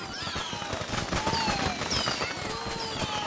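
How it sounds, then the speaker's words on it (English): Fireworks burst repeatedly in Far Cry 6, a dense run of crackling pops and whistling streaks overlapping one another, with faint voices mixed in the background. "How do we have so many fireworks?"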